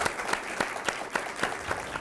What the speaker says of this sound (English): let's give Dr. Stenehjem a round of applause.